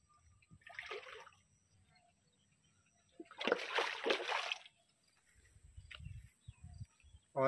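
Water from a village well splashes into a bucket in short bursts, loudest in a sustained pour near the middle, with quiet outdoor surroundings between.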